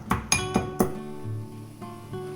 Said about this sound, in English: I've crushed the black pepper and cumin seeds into a coarse powder